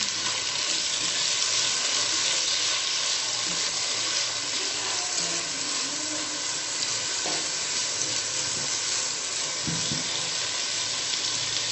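Chopped tomatoes frying in a pan for a soya chunks pulao, giving a steady dense sizzle that runs unbroken from start to finish, with faint stirring scrapes and no talking.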